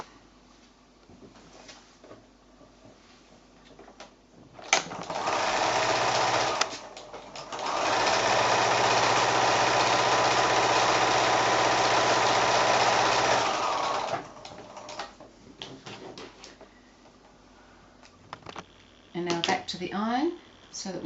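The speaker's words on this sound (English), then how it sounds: "make sure that your corners are sitting out, and back to the sewing machine." A sewing machine stitches a quilt block made from 5-inch squares, running in a loud, steady whir for several seconds with shorter starts before and after, plus handling clatter near the end.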